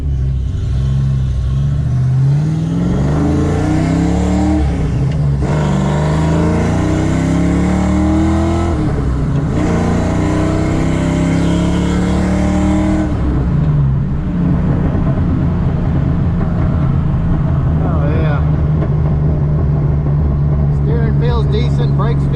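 Car engine pulling hard while driving in an uncarpeted older car, revs climbing in several strong sweeps before easing to a steadier cruise, loud cabin noise with someone talking over it.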